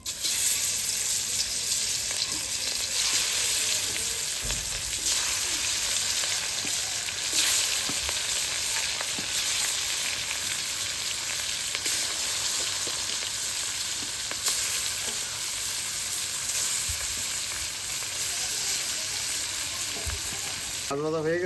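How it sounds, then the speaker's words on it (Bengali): Fish sizzles and spatters in hot oil in a home kitchen, a continuous loud crackling fry with occasional clinks of a utensil stirring, steady for the whole stretch and free of talk. "তেল গরম হয়ে গেছে, এখন মাছগুলো দিয়ে দেবো।"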